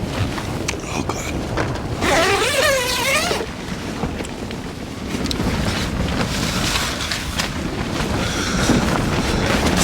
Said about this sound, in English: Sounds damn windy.